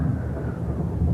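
A deep, continuous thunderstorm rumble rolls through a storm at sea, low and heavy, holding steady with slight swells and no voices.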